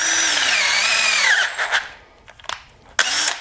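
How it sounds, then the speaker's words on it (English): A power drill whines steadily at high speed for about a second and a half, close and loud, then sputters into a few short bursts and stops while fitting a Lucioli inner tube to LGC Moto wheels. "I'll get the other drill."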